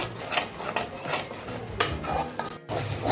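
Poppy seed masala for chingri posto stirred in a pan, with close metallic scrapes and clinks of a spoon against the pan in an irregular rhythm over a faint sizzle, plus one brief silent gap.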